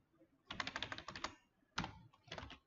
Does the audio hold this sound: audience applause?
no